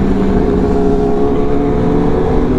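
A stock BMW S1000RR sport bike accelerates hard on a highway, a loud, close, continuous engine roar with rising tones and heavy wind rush throughout.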